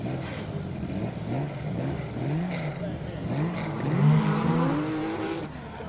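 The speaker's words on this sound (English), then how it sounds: "we can hear and feel that Porsche through the walls of the commentary box, leaving the line there" Porsche race car launching off the start line at the SIMOLA hill climb, its engine revving and rising in pitch as it pulls away, heard at a distance beneath steady commentary.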